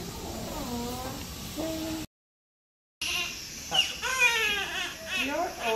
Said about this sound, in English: He's crying, I can hear him.